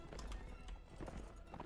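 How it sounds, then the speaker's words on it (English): A horse gallops in the medieval battle game Mount & Blade Warband, a quick run of clip-clop hoofbeats over a busy battlefield backdrop, brief and fairly close. "Oh, sorry, horse there."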